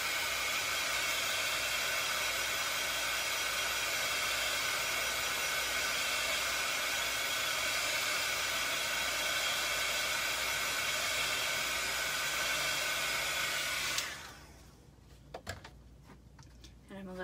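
Hair dryer blowing on a craft piece, a steady loud whooshing hum running for about fourteen seconds before switching off, followed by faint clicks and handling noises.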